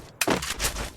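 A gun fires a headshot in a shooting video game: a sharp, loud crack followed by a second quick report and a short rattling tail, all within a second.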